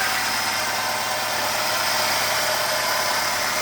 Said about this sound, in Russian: Будто кто-то стучит внутри двигателя.